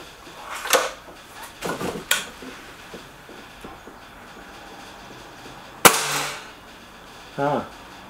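Crosman Silver Fox and Stoeger RX20 S2 air rifles fire in a match, with sharp single cracks and a louder shot near the middle amid outdoor background noise and a voice in the distance.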